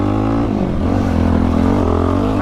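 Quad ATV engine running on Obor Advent tires in sandy terrain, a loud, steady revving drone held close throughout with slight pitch swells and no voices.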